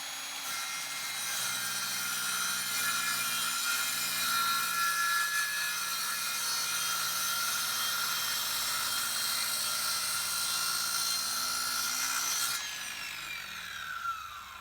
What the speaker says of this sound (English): I want to just make sure I'm cutting just to the right of that pencil mark